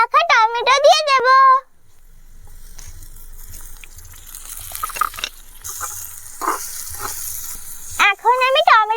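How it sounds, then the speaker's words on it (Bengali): Chopped tomatoes hit hot fried onion and chili in a miniature pan for egg bhurji, setting off a sustained, crackling sizzle that rises and falls, with a voice talking just before and after. "এখন আমি এর ভিতরে কুচিয়ে রাখা টমেটো দিয়ে দেব।"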